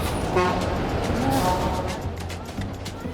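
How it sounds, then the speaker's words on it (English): Buses rumble along a busy street in Batangas, Philippines, under constant traffic noise, with a horn tooting briefly in the mix and faint voices in the background. "I'm listening to the sounds of buses."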